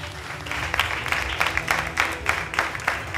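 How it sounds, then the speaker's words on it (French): Audience applause at a French television singing show, a crowd clapping with uneven bursts and swells over a bed of music, fairly loud and near. "on va l'applaudir"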